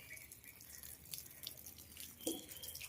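Water is poured onto the soil of a freshly repotted hibiscus plant, giving quiet trickling and scattered drips that stay faint throughout.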